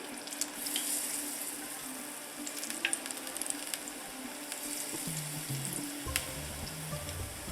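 Steady sizzling of spoonfuls of dahi barre fritter batter frying in hot oil, with occasional clinks and scrapes of a utensil and some low kitchen noise.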